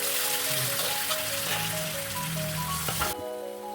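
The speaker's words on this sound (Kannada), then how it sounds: "ಮಸಾಲನ ಚಲೋ ಫ್ರೈ ಮಾಡ್ಕೊಬೇಕು." Masala sizzles in hot oil in a pan for Bangda mackerel masala fry, a close, steady hiss of frying that runs without pause, with faint tonal beeps in the background.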